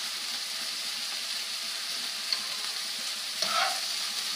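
Seafood stew with brown basmati rice in a pan, a soft constant sizzle with a quick stir, one light clink then a brief scraping swirl of the spoon near the end, no talking.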